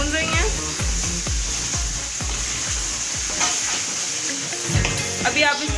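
Mutton for bhuna gosht is stir-fried in a pan, a continuous sizzle with a regular series of spatula scrapes and knocks up close.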